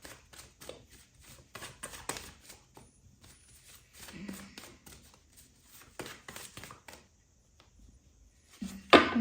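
Tarot cards shuffled by hand in a series of soft, uneven riffles and slaps, fairly close but quiet, with brief gaps and a louder handling noise at the very end.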